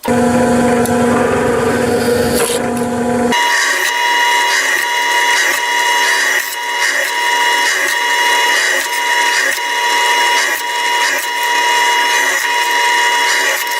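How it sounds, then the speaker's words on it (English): A drill with a 9/64 inch bit runs loudly and continuously up close, a high whine with a brief lower-pitched start before settling into a steady grinding drone. "We're going to use a 9/64 drill bit to do that."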